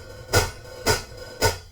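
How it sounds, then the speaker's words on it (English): A drummer opening and closing a hi-hat in a groove gives three breathy cymbal swells about half a second apart, each rising and closing off, fairly quiet with nothing else playing. "he's doing something interesting with the hi-hat, whereby he opens and closes it,"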